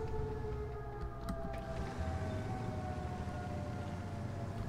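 A siren wails steadily in the World of Tanks video game, faint and continuous over a low rumbling engine drone, with no talk.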